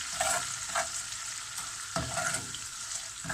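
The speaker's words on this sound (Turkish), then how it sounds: "şöyle güzel tereyağlı mis gibi bir pilav yapıyorum" Buttered bulgur pilaf sizzling steadily in a pan while a spoon stirs and scrapes through it at intervals, close and continuous with no talking.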